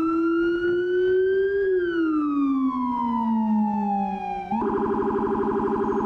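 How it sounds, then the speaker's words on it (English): A fire truck siren in the EmergeNYC game wails in a steady descending tone, then switches to a rapid, pulsing yelp near the end. It is loud and continuous, with no talking. "Do a little rumbler action on this one."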